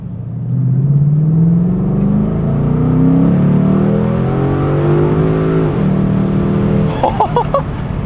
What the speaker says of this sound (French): Ah là, on a le V8 qui sonne bien américain.